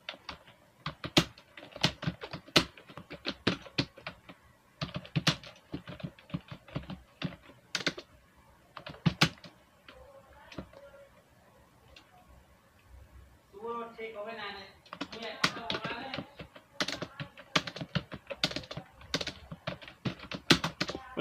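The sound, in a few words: typing text on a computer keyboard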